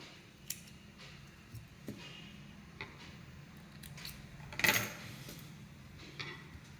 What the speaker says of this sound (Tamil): இப்போ இந்த பிசுறுகளையெல்லாம் நம்ம கட் பண்ணி எடுத்துடலாம்